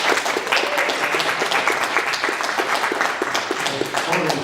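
Audience at an Internet Society conference session breaks into sustained applause, a dense wash of many hands clapping close by that fills the room, with a voice faintly audible underneath.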